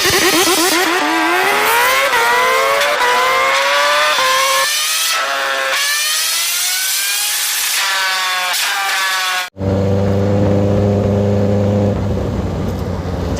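A Benelli TNT 600GT motorcycle fitted with an Ixil 55 exhaust revs and rides, its loud raspy engine note climbing and dropping through gears, then cutting to a steadier, deeper rumble near the end.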